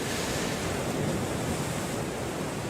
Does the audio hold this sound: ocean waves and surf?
yes